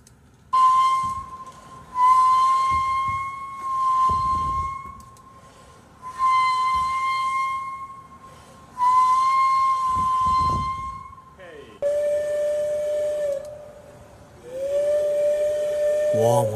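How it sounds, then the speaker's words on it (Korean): A walrus whistles in a series of about six sustained, steady-pitched tones, each lasting one to two seconds with short pauses between. The last two whistles are lower in pitch. "살다 살다 바다 코끼리가 휘파람 부는 소리를 들어보네"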